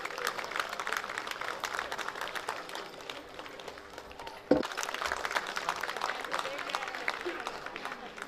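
A crowd claps in sustained, dense applause at the inauguration of Karma Tashi Chhyuling Gumba, a Buddhist monastery in Kanchan, Rupandehi. The clapping dips briefly and then resumes after a single sharp thump midway.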